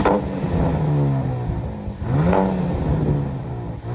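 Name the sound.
pickup truck engine revving hard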